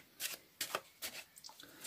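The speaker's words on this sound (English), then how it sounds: "Then you can shuffle all the cards off." Playing cards being shuffled during a card-control sleight of hand, giving four quick riffling bursts roughly half a second apart, followed by lighter, scattered flicks of the cards, close and clear with no voices.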